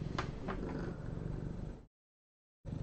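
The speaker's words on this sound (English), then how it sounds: "She's got some loud purrs on her." A cat purrs on a desk close to the microphone, a steady low rumble for a couple of seconds that breaks off briefly and then resumes.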